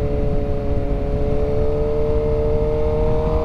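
A 2007 Suzuki GSX-R600 engine drones steadily at an even pitch while the bike is ridden, with a low wind rumble underneath throughout.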